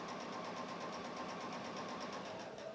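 A sewing machine stitches quilting fabric with a steady rapid needle chatter and motor hum, moderately close and without talk.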